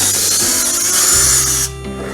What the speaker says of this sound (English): now we're just gonna make that hole bigger with the 5/16